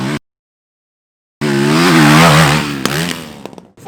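A dirt bike engine revs loudly and close up after a brief gap of silence, its pitch rising and falling in a buzzing, chainsaw-like tone. The bike has a cone valve and brand-new tracks and is being ridden for a suspension setup.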